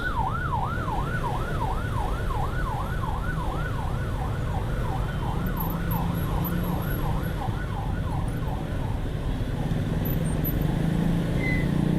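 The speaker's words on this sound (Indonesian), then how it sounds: "Kita dahulukan ambulan ini. Mau kemana nih ambulannya?" An ambulance siren wails steadily in a fast up-and-down sweep through busy Jakarta street traffic, close and loud over constant engine and road noise, then fading and thinning as it moves off.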